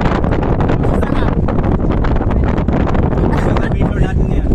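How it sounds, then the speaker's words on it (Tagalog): Strong wind buffets the microphone at an outdoor beach campsite, a constant loud roaring rush with gusty fluctuations, and people talk faintly in Filipino under it. "Sarap ng hangin."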